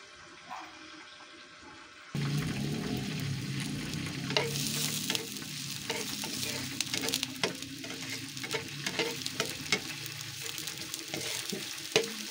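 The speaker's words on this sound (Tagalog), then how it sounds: "Saute lang natin ng konti." Garlic sizzles in olive oil in a pan for pasta. After a quiet start, the frying crackle jumps in suddenly and keeps going steadily up close, broken by scattered clicks and scrapes of stirring.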